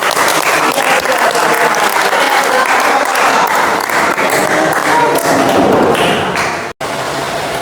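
A school class bursts into loud, sustained applause, a dense roar of many hands clapping close by, with a few thumps mixed in and a brief dropout near the end.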